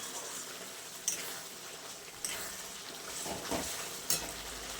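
Chicken pieces fry in a spice paste in a home kitchen, giving a steady, close sizzle with a few sharp scrapes and clacks as the pan is stirred, and no talking.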